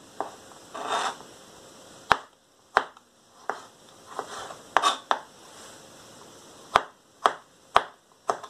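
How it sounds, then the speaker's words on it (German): Olives chopped into small pieces with a knife on a board for a savory chicory recipe, crisp irregular knife strikes repeating close up, some single sharp taps and some softer double chops, with quiet gaps between. "klein schneiden"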